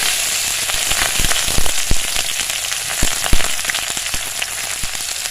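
Ginger garlic paste frying in a pan for a duck curry gives a loud, continuous sizzle, close by and dotted with sharp crackles and pops, with no voices.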